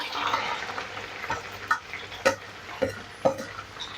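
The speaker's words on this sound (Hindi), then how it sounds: "अब हम इस ऑयल को वेस्ट नहीं करेंगे, इसी में हम जो है ना प्याज ऐड करेंगे अपना" Onions frying in oil left over from frying chicken for a smoky chicken karahi make a steady soft sizzle, with a few sharp spatula scrapes against the pan near the end.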